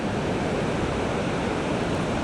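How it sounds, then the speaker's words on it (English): A waterfall roars in a dense, steady wash of falling and spraying water as a boat approaches it, loud and continuous with no voices. "Let's follow this boat all the way into the waterfall, see how close it goes."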